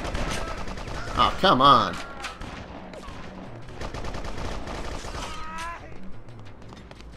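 Pistol gunfire in the action game Bloodrayne, with several sharp shots popping under music and game effects while a voice talks over it.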